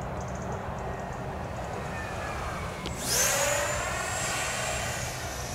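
A model Vulcan airplane whooshes past in flight, a faint hum rising into a sudden loud swoosh with a descending whine as it passes close, then fading into steady background noise.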